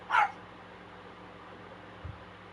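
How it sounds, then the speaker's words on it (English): One sharp, close dog bark at the very start, followed by a quiet room with a faint low thump near the end. "Because every 5 minutes he continues to bark."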